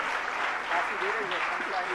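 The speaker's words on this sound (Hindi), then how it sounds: "जरा एक बार तालियां बजा दीजिएगा।" An audience at a Jain religious gathering claps steadily, a dense wash of applause with voices faintly audible underneath.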